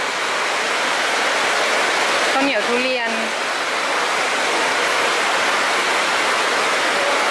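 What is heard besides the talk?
heavy rain at floating market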